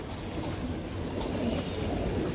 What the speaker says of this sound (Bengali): এখানে এক পেয়ার কবুতর আছে এটা বিআরপিএফসি ক্লাব থেকে রেস করা